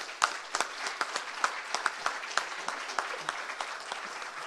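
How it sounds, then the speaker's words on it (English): Scattered clapping at a corporate awards ceremony, a thin round of individual claps from a small group, each hand strike distinct and fairly faint, with the rhythm uneven. "I think we should just have one round of applause for all of them"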